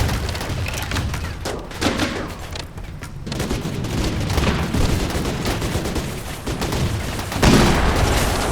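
Dense, continuous gunfire as RimWorld colonists shoot at raiders, with rapid overlapping shots and heavier booms throughout, a louder burst near the end, and no talking.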